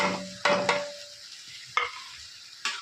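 Onions with salt and turmeric being stirred in a pan, a few sharp scrapes and clinks of a spoon against the metal over a faint sizzle, spaced irregularly across a quiet background.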